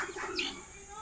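A racing pigeon coos softly during a morning training session, with low rolling notes close by and some chirps and faint bird calls in the background.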